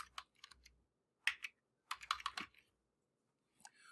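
Typing on a computer keyboard: clusters of quick, clicky keystrokes in short bursts with pauses between them, close and clear, with no talking.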